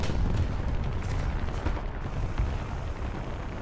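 A heavy tank cannon fires in War Thunder, a dense, loud boom with a long rumbling tail that fills the whole moment, with no talk over it.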